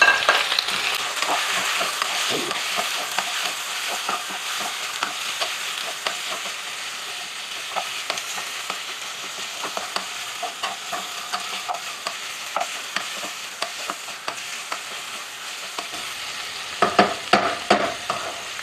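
Pork for adobo fries with browned garlic in a hot pan, a steady sizzle under repeated close spatula scrapes and stirs, growing livelier near the end, with no one talking.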